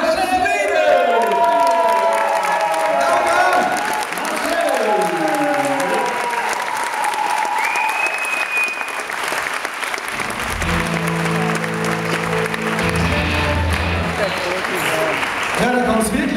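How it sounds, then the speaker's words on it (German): Warm, sustained applause from a live audience welcoming the youngest rock'n'roll performer from Ludwigshafen, loud and continuous for the whole stretch, with scattered cheers and a host's voice speaking over the clapping. "Begrüßen Sie mit einem wunderbaren Applaus unseren jüngsten Rock'n'Roll-Spieler aus Ludwigshafen"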